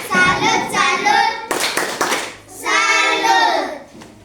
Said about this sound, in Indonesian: Kita tepuk salut untuk kelompok 3.